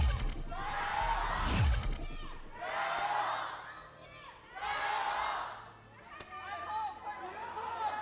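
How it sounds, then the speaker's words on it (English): Crowd at an LPL esports match in Shanghai, with surges of cheering and chatter rising and falling in waves under a commentator talking. "as we get to hear some cheering for the crowds"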